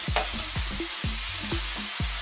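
Bacon sizzles steadily in a pan while a utensil scrapes and stirs it in a regular rhythm, about four strokes every second, close and fairly loud with no talking.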